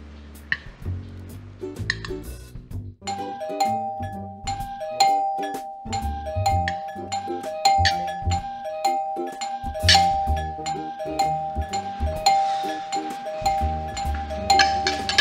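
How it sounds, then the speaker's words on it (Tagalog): A doorbell chimes over and over in a repeating electronic melody, ringing close and insistent with a steady rhythm for a long stretch. "Doorbell?"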